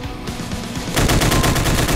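Chaingunner enemies fire chainguns in Doom, modded with Project Brutality, on Plutonia's Ghost Town map. After a moment of low rumble, loud rapid-fire bursts rattle in a fast, even rhythm close by.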